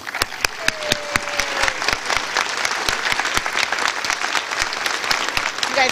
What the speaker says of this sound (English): A round of applause for this group.